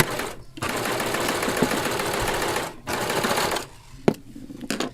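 A serger sewing machine chains off thread while beading fabric, giving a steady loud mechanical whir in two long runs separated by short pauses, ending with a few sharp clicks.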